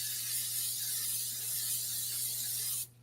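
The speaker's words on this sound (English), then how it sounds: "This is some Pam spray that I'm going to put in there just so I don't have anything sticking to the" A can of Pam cooking spray hisses into a pan in one continuous close burst for nearly three seconds before cutting off abruptly over a low background hum.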